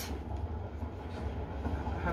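Low, steady rumble inside a moving train carriage, a faint continuous drone with soft rattling and no distinct clacks, quiet and unbroken throughout.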